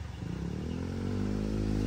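A motorcycle engine starts and runs close by, its rough puttering beat firming up into a steadily louder idle with a rising hum over a couple of seconds.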